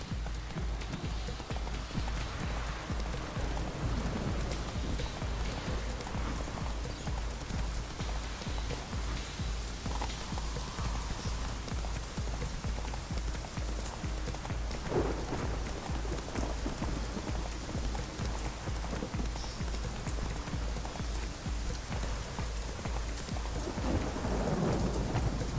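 Roach, the horse in The Witcher 3, gallops through heavy rain with a steady hoof rhythm under a constant downpour and rolling thunder, with no voices.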